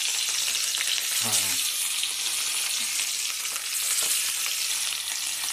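Rohu fish frying in oil in a pan, a loud, continuous close sizzle and hiss with a brief scrape near the start, no voices over it.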